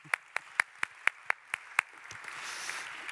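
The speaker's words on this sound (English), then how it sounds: "A little round of applause." Brief applause at an institutional conference session in Parma, opening with about seven distinct evenly spaced claps before softening into a faint, dense patter of many hands.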